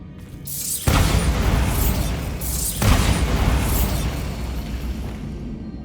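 Two heavy Bombarda explosion blasts from Hogwarts Legacy boom close and loud, each a sharp burst followed by a rumbling, debris-filled tail.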